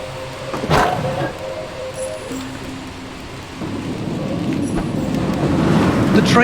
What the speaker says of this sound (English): The train again.